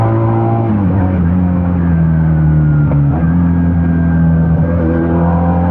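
A Benelli Patagonian Eagle 250 two-cylinder motorcycle engine revs loud and near, pitch shifting through several gear changes with brief dips and recoveries.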